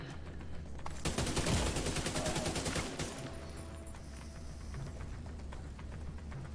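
Rapid automatic gunfire in the video game The Division 2, a dense burst of shots from an AK-type rifle building then trailing off, fairly quiet overall with a single sharp report standing out near the middle.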